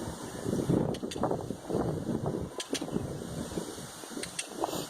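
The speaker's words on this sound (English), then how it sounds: "now it's getting really windy" Gusty wind buffets the microphone in uneven surges, with a steady rumbling roar underneath and brief crackling bursts.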